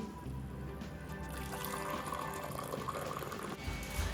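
Hot water pours in a steady, continuous flow, filling a vessel with a faint rushing tone for a few seconds, and no one speaks.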